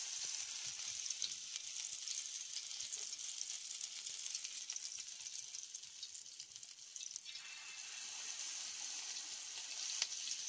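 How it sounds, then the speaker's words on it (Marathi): Batter-coated fish, dipped in thin gram-flour batter, fries steadily in a pan over high flame, giving a continuous close hiss and sizzle with faint crackles throughout and no voices. "आता मस्त आपण फिश फ्राय करूया."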